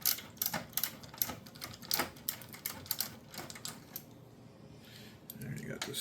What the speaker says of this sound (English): There, you got the screws out of that.